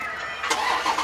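Engine of a white Jeep Grand Cherokee SRT8 running nearby, a steady mid-pitched drone with a brief swell in revs partway through, heard on its own without talk.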